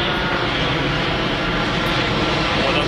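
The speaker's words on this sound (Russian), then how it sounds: "И смотрите, еще самолет летит." Aircraft engine roar from an airplane flying overhead above the island of Mauritius, a steady, loud broadband drone that fills the whole stretch with no talk.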